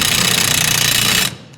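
An impact gun hammers off a wheel nut in one loud, continuous rattling burst of just over a second, then stops abruptly.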